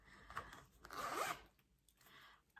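Zipper being opened on a replica Chanel Classic Flap bag, a few short close rasping pulls with one longer zip in the middle, quiet and without talking.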